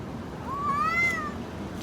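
A single cat gives one clear, drawn-out meow that rises and then falls, close by and moderately loud over a steady low background hum.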